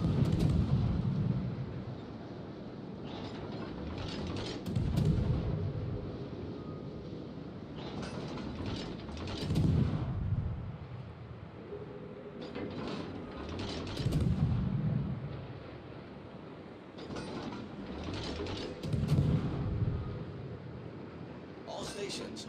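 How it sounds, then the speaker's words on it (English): Warship gunfire in a naval battle video game, with heavy booming salvos recurring roughly every five seconds over a constant low rumble, under occasional spoken game announcements. "Concentrate fire on the enemy warship."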